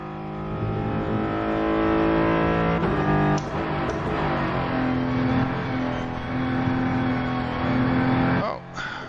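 Simulated race car in the Rennsport racing game: a steady, loud engine drone with shifting pitch and a sharp scrape or bump partway through as the car understeers off the track, then the drone resumes.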